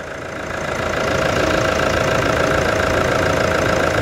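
Toyota Hilux pickup engine idling close by, a steady loud rumble with a fast knocking pulse that swells during the first second and then holds evenly.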